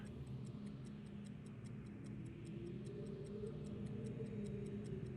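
Steady clock-like timer ticking in the game Myst II: Riven, at an even rhythm, soft and continuous over a low background hum.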